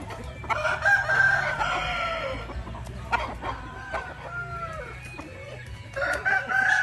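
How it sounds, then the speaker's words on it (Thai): A Khao Kulab Dam breeding rooster crows close by, with long strained calls rising and falling, mixed with clucking and other fowl calling in the background. "นี่คือข้าวกุหลาบดำนะครับ พ่อไก่ เป็นพ่อไก่หลัก ของซุ้มนี้นะครับ"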